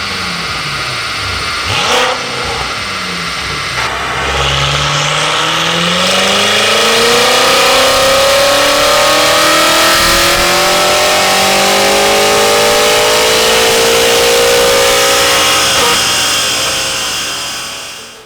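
BMW M5 engine revving hard at high revs, a loud close roar whose pitch climbs steadily over several seconds and stays sustained until it fades at the end.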